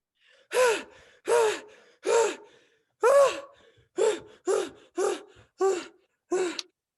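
Nine loud, gasping breaths in quick succession, heavy panting that speeds up toward the end, close and alone.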